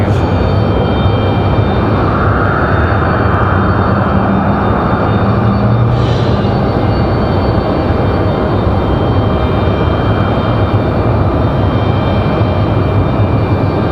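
American Airlines flight 1904, a jet airliner bound for Charlotte, climbs out after takeoff from Raleigh-Durham International, its engine roar loud and steady for the whole stretch.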